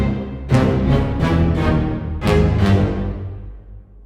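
A virtual orchestra plays short, punchy string chords layered over heavy, bombastic low basses in a few separated stabs that ring out and decay; no voices.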